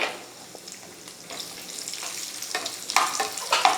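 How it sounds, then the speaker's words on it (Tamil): Nuts and raisins frying in ghee for rava laddu, a steady close sizzle with crackling that grows busier and louder toward the end, with stirring in the pan and no talking. "எல்லாம் நெய்யில் வந்து வறுத்துக்கலாம்"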